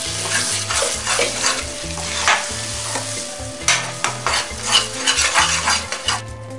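Tomatoes and dal frying in a pan while being stirred, with steady sizzling broken by repeated scraping and clanking of a metal spoon against the pan, close and fairly loud, with no one talking.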